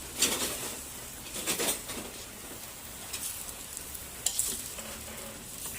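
Pancit toppings stirred and frying in a pan: steady sizzling with intermittent scraping stir strokes and light utensil clatter, close and moderately quiet.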